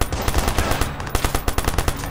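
A player's automatic weapon fires in a video game, a loud close stream of rapid shots with a rattling, even rhythm throughout.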